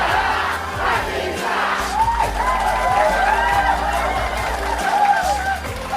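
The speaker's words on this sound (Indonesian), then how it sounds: "Oke, kita akan tepuk tangan." A crowd at a corporate managerial skills and leadership training event cheers and shouts loudly with some clapping, a dense, sustained roar of many voices.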